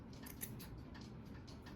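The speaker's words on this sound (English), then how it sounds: "take your scissors and cut that off, and then just trim your loops." Scissors snip through yarn loops during a craft project, a few soft, close, rhythmic cuts over a faint background hum, with no talking.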